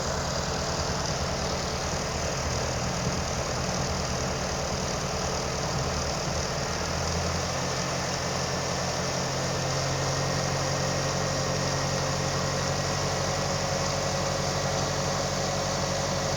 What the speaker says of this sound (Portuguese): O motor tá ficando até mais acelerado agora.